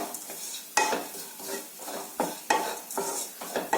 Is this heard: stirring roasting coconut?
yes